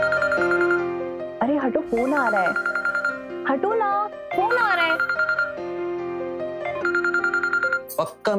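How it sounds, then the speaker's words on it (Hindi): A phone ringtone plays a looping electronic melody, loud and close, while voices talk over it. "मेरे साले का फोन है"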